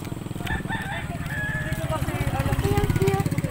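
A rooster crows nearby with a drawn-out call while a low engine idles underneath, in Mamatid, Cabuyao, Laguna.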